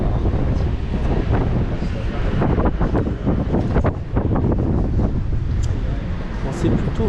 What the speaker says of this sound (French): Bon, c'est plutôt venteux.